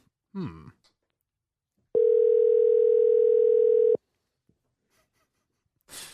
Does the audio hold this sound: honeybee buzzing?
no